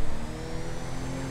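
A car engine in the video game GTA 5 revs and accelerates steadily, a brief, fairly faint mid-pitched drone with no voices over it.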